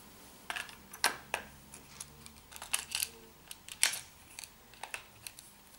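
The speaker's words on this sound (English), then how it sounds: "we'll put the battery back on now" Battery being fitted back into a rugged waterproof phone, a quiet series of sharp plastic clicks and snaps, irregular and close, with no talk.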